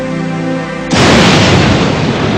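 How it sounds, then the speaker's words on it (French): The Trinity atomic bomb test detonates in the New Mexico desert at dawn, a sudden massive blast that erupts after a low hum and rolls on as a loud, sustained roar. "5h29 du matin, Trinity explose."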